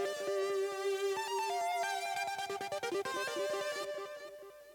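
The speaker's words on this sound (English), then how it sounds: "I used the Sweet Lead preset in Alchemy" Lead synth using the Sweet Lead preset in Logic's Alchemy with automation, a bright, sustained melodic line with a rapid stuttering, pulsing passage midway, playing steadily and alone.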